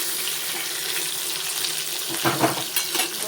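Potatoes dropped into hot oil in a home kitchen pan sizzle and hiss steadily, with a brief louder stirring clatter near the end and no voices.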